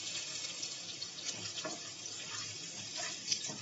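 Garlic dropped into a sizzling tempering for a fish and radish curry, giving a soft, steady hiss with faint crackles, fairly quiet throughout.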